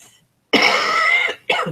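A harsh, drawn-out cough close to the microphone, followed after a short pause by a second, briefer cough.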